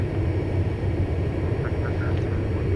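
Steady propeller engine drone of a Mooney light airplane in the X-Plane 11 flight simulator, a continuous low hum held at even loudness throughout with no talking.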